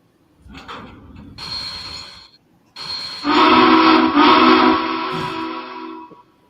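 A steam locomotive whistle in the train game Trainz blows in two long blasts, the second louder and sustained with a rich chiming tone, with hissy background noise between.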